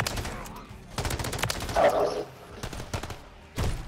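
M13B rifle in Modern Warfare 3 firing rapid automatic bursts, sharp loud cracks in quick clusters with gaps between, mixed with game effects and some voices.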